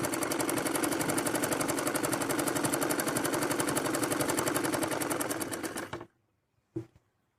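A sewing machine stitches a palazzo seam in plain fabric at home, running in a fast, even rattle for about six seconds before stopping, followed by one brief clack.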